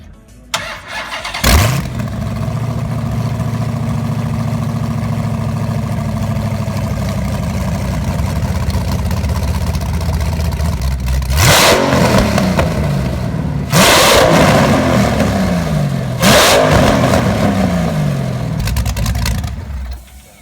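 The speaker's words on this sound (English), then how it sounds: "here's the sound of this engine being revved." A Hellaphant 426 Hemi crate engine idles in a steady low rumble, then is revved hard in three sharp bursts, each climbing and falling back to idle, loud and close with no talk.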